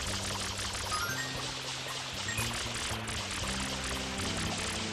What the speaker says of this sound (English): Press R to shoot the water.